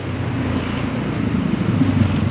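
Motorcycle ridden on a road with a cheap phone recording, a steady low engine rumble and wind noise holding close and continuous throughout, swelling slightly toward the end.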